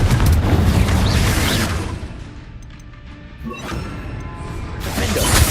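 Fiery Confringo spell blasts in Hogwarts Legacy on Xbox Series X, loud crashing booms with debris-like bursts at the start and again near the end, a quieter stretch between.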